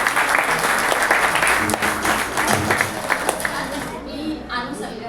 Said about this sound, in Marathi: सगळ्यांनी जोरात टाळ्या वाजवायचं आहे